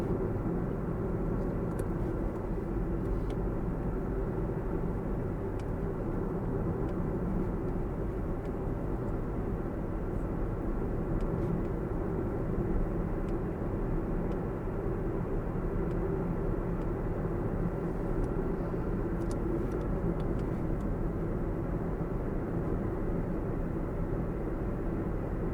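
Steady, even interior road rumble of a car driving through Milford, Delaware, a continuous low drone of engine and tyres with no breaks and no talk.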